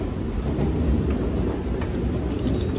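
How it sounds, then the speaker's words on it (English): Airport train at Jeddah airport running toward the departure gates, a steady loud rumble and rattle of the rail car filling the whole stretch with no pauses. "I need to take a train to go to the departure gate."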